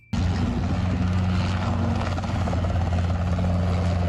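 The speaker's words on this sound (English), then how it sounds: "the big open spaces and rugged terrain of the Australian outback have made these choppers an essential tool for cattle ranchers" Loud, close helicopter rotor and engine drone, steady and continuous, from a chopper mustering cattle over the open Australian outback.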